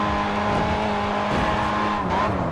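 A Ford Focus ST race car in the racing game Grid 2 accelerates during a time trial in Barcelona. The engine gives a loud, continuous roar that rises in pitch, with a shift partway through and a hint of tire noise.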